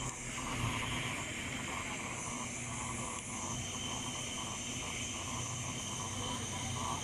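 Steady, loud jet engine roar in the Helicopter Flight Pilot Simulator video game, a continuous broadband whoosh with a faint hum beneath, holding even for about seven seconds with no speech.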